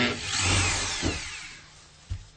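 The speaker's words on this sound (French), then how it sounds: "Ah, c'est sûr que dans le béton cellulaire ça rentre bien." Power drill boring into aerated concrete during an installation, a steady high whine that slowly fades, with a couple of short knocks near the end.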